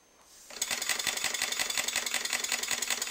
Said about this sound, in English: The steam engine is fun to watch and has a pleasant sound.